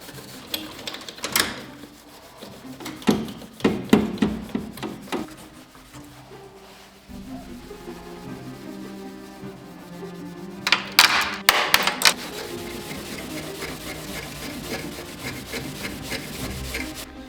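Scraping and sanding against the firewall in the engine bay of a 1999 Civic hatchback comes in bursts with pauses, gritty rubbing strokes close by, plus a few knocks and clatters.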